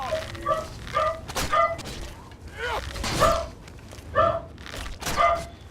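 A dog companion barks in Oblivion, the video game, with repeated short yips and barks scattered across several seconds, each with a clear harmonic bark shape, fairly close and loud over low background game noise.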